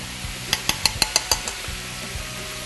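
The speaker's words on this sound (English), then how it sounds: "I'm going to go ahead and stir that up." A paste of butter, flour and buttermilk is stirred in a pan. A run of six quick, bright clinks of a utensil against the pan rises over a steady low sizzle, and softer scraping follows.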